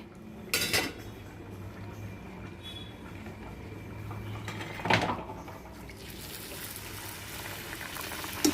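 Potato masala thickened with roasted gram dal paste bubbles in a pan, a steady close simmering gurgle with a few sharp clinks of a spoon or utensil against the pan, no voices.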